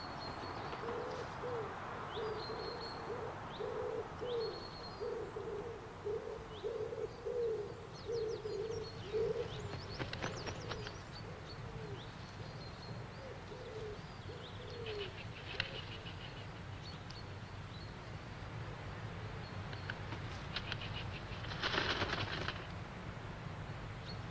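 Wild pigeons cooing outdoors, a series of soft repeated low coos at moderate distance over a steady natural background, with occasional faint higher bird calls.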